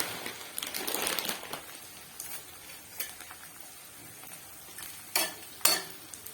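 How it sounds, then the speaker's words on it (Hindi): Gond (edible gum) fries in oil over a medium flame, a soft sizzle with stirring scrapes and a few sharper clinks and rustles close by. "इतना सारा गोंद तल लिए हैं।"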